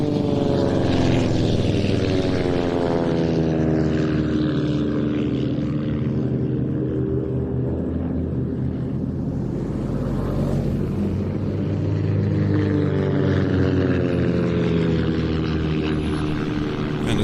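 Two propeller aerobatic planes of a synchro pair flying a widely spaced loop in trail at an airshow practice in Leszno, a steady droning engine roar with harmonic whine that swells and fades slightly as they pass, sustained throughout with no talk.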